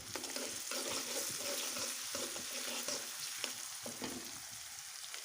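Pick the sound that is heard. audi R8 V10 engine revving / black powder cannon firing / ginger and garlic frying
ginger and garlic frying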